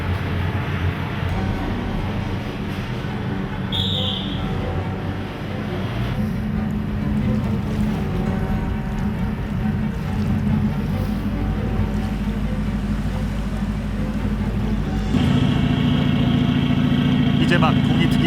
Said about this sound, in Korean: 이제 막 동이 트기 시작하는 어두운 바다에는 디젤 엔진의 굉음만이 들릴 뿐이다